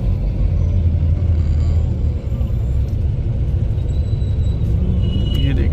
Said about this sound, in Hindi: ये देखिए ट्रैफिक, मतलब जो है अति भयंकर ट्रैफिक मतलब।